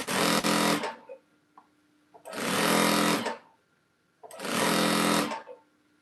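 An electric sewing machine stitches a jelly roll rug seam in three loud bursts of about a second each, separated by pauses, its fast motor buzz close and clear.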